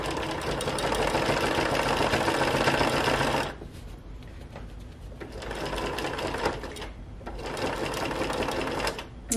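A sewing machine stitches a curved seam, running loud and fast in a continuous whir, then stopping and restarting in shorter bursts as the fabric is eased around the curve.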